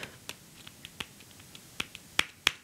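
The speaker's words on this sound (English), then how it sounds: "a keystroke sounds like that." Keystrokes on an iPad Pro Smart Keyboard Folio (2020), a string of sharp, light clicks at irregular intervals, quiet at first with the last few louder and crisper, with no voice over them.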